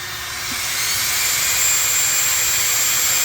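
A Castle Creations HyperFlow motor fan on a Max8 G2 with a 1515 2200kv motor, powered by a 4S battery, spins up to a loud, steady high-pitched whine that stays close and alone, with no talking.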